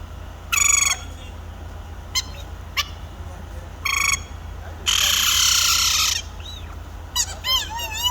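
A person imitates a chicken with a series of short, sharp clucks and squawks, then a longer drawn-out call and a few warbling notes, loud and close over a quiet background.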